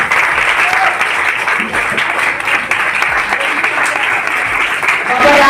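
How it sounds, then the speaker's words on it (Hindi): An audience at an Indian seminar event applauds loudly and continuously, a dense wash of many hands clapping close by with no pause. "आप सभी के जोरदार ताली के बीच"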